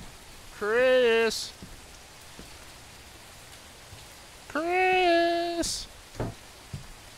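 Rain falls steadily outside a burger restaurant, a constant soft patter, while a voice twice calls out loudly over it.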